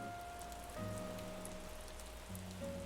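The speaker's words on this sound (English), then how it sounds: "Nook, are you really going to do your presentation out in this torrential downpour" Torrential rain in Animal Crossing New Horizons falls as a constant steady patter over soft sustained background music tones, with no one talking.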